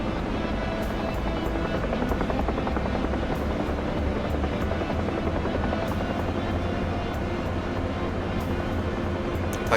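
Helicopter close by with a steady, loud rotor thump and engine drone that holds unbroken throughout a slow approach for a skid landing.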